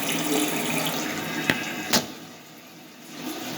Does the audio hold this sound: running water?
yes